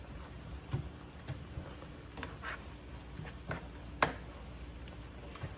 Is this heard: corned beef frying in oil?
yes